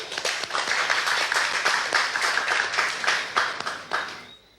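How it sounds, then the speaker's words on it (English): Audience at a fire services ceremony applauding pioneers, steady rhythmic clapping from a modest crowd with distinct individual claps, sustained for about four seconds before tapering off. "Round of applause for our pioneers."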